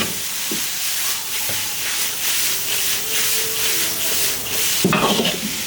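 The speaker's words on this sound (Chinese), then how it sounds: "沿着锅边淋，把大蒜苗甩进来，来点花椒油" Bamboo shoots and cured pork stir-fry steadily in a hot wok with garlic sprouts and Sichuan pepper oil, a loud continuous sizzle with scraping stirs, swelling briefly near the end.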